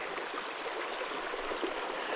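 Creek water flowing steadily around someone standing mid-stream, a soft continuous rushing and trickling wash with no talk, fairly close but not loud.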